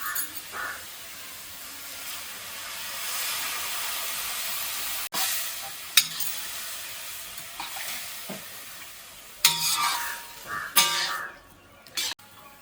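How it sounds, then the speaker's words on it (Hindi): Milk goes into a pot of carrots cooking on a traditional clay stove for gajar halwa, giving a steady hiss and sizzle broken by sharp clatters and scraping stirs near the end. "अब हम दूध डाल रहे हैं"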